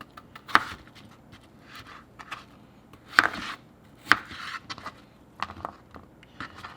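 Knife chopping a small dill pickle style cucumber on a board, a few sharp distinct cuts spaced unevenly with softer slicing taps between, close and alone.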